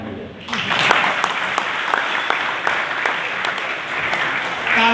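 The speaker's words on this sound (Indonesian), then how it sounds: "Tepuk tangan dulu." Church congregation applauding during a sermon, a dense, steady clapping that swells after a brief opening moment and carries on loudly with a few sharper individual claps.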